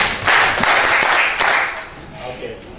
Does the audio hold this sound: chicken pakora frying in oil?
no